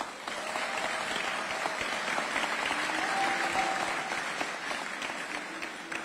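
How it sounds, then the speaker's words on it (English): Steady audience applause at a Riviera Beach public event honoring a state senator, a dense, even wash of clapping from a sizable crowd that holds for about six seconds without pause. "Let's give him a round of applause."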